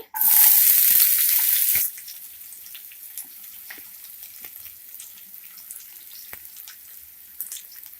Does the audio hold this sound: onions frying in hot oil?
yes